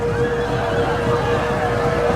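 Horses neigh and whinny amid a dense, continuous battle din in the Total War: Rome II strategy game, the calls blending into steady loud background noise with a sustained tone throughout.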